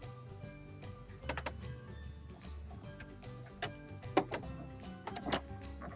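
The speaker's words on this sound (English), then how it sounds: "I'm just making sure I'm sewing through." A home sewing machine stitching through fleece on a DIY owl, with irregular clicks and short mechanical bursts over a low motor hum, faint and close, with no voices.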